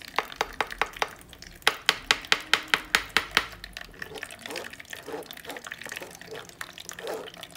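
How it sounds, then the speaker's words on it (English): Soursop pulp poured into a very big strainer, with a burst of rapid, evenly spaced wet slaps and splashes followed by softer sloshing and dripping, close by and without talk. "So you pour it in your strainer and you hold the strainer like this."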